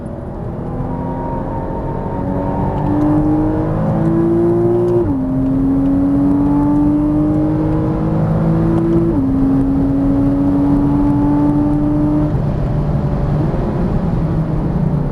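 A Porsche Cayman S on a race track sounds steady and loud, its engine note rising and then stepping through gear shifts around the middle of the clip. A sustained drone of engine and road noise runs throughout, with no one speaking.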